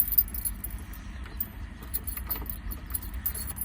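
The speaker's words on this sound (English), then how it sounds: "I've got 3 keys here, and that's the one for the engine" A bunch of three keys for a 1957 BMW Isetta microcar jangles and clinks in short metallic bursts, close by, over a low rumbling background.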